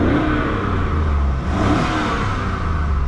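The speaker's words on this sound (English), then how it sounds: "engine sounds great" Close, loud revving from a 2001 Chevrolet Tahoe LT 4WD V8 engine, a couple of quick throttle blips swelling and falling over a steady rumble, no talking.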